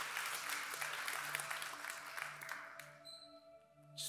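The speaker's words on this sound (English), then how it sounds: "You can clap for that." Applause from a church congregation during a sermon, a dense burst of many hands clapping that swells, then thins out and fades over a few seconds.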